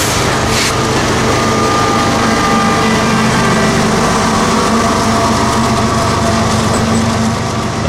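A CSX freight train hauled by ES44AH locomotives, with a distributed power unit near the rear, rolls past close by in a steady, loud rumble of engines and rail cars that holds unbroken throughout.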